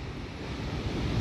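Rough surf breaks steadily on a beach at Praia de Itaúna in Saquarema, a continuous loud wash of churning waves mixed with wind buffeting the microphone, with no voices.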